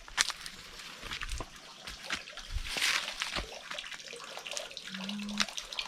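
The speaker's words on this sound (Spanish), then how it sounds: "Donde tengo yo mi nacimiento de agua." Water trickles and splashes from a natural spring in a garden oasis on an eco-farm in southern Spain, a faint steady babble with scattered drips and splatters.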